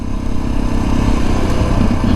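Suzuki DR dual-sport motorcycle engine while riding on gravel, a loud, close, rough rumble with clattering texture and a slight rise in revs, heard without talk.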